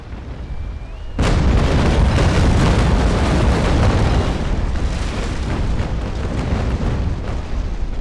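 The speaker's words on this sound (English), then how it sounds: "as he comes into range, hopefully pummel him with double shot" Broadside of ship cannons firing double shot in the naval sailing game Naval Action, a sudden loud boom after a quiet moment, then a long rumbling roll of overlapping blasts that slowly fades.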